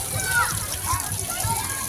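Water splashes from a public fountain while children play, a steady close wash of splashing under children's voices and chatter.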